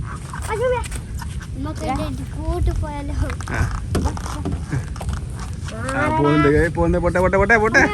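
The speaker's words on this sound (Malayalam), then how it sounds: "പശു ഇങ്ങോട്ട് നോക്കി നിൽക്കുന്നേ." A cow moos in the rain outdoors, a drawn-out low call rising near the end, heard amid steady rain noise while people talk close by.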